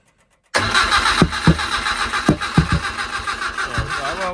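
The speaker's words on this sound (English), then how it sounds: "Give us a crank. Let's see if it's going to go." A five-bearing 1200 sand-cast Imp engine fitted with an experimental Climax FWH head cranks and then fires up, settling into a loud, close, rough running note with irregular bursts after a moment of silence.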